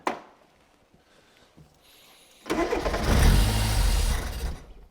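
A rare fast Ford, a barn find left unrun for 20 years, cranks and catches with a sudden loud engine roar after a few faint clicks and moments of near silence.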